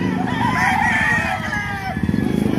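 A kanawayan fighting rooster at the Bocaue market crows close and loud, a drawn-out cock-a-doodle-doo followed by a few short clucks.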